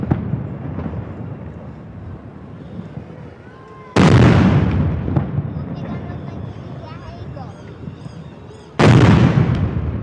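Cannon salute fired during a Brazilian Army ceremony welcoming the army commander at the Escola de Sargento das Armas. Two loud, sharp booms about five seconds apart ring out near and open, each with a long decaying tail, over a steady crowd murmur.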